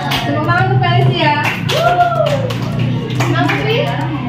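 Children in a classroom clap for a classmate. The scattered applause sits under steady talking and kids' voices throughout.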